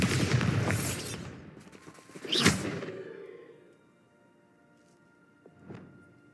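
A Bombarda spell in Hogwarts Legacy goes off as a loud blast with a crackling burst and a second booming impact, fading into a low rumble before a faint later thump.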